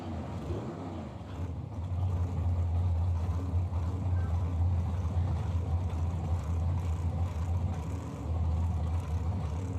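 A box-door drag race car rumbles with a low, steady engine drone at the track, sustained and moderately distant, with a brief dip near the start and again near the end.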